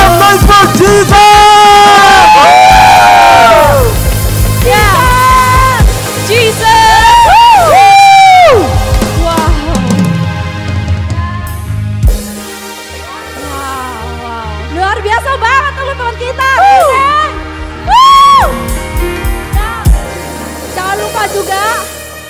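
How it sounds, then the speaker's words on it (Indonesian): Church congregation at an onsite worship service cheers loudly, with overlapping whoops, high sliding shouts and yells in bursts that fade briefly midway before rising again. "make some noise for Jesus!"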